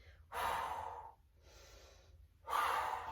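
Two forceful breaths out through the mouth during yoga twists, each a loud breathy rush lasting most of a second, separated by a softer inhale, close and quiet otherwise.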